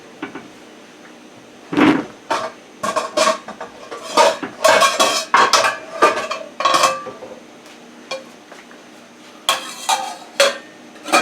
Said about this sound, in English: I'm putting in 4 link sausages